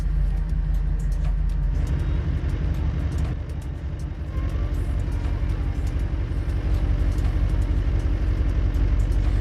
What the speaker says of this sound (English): you'll start hearing the note on the engine change, where the engine has to work harder for it to idle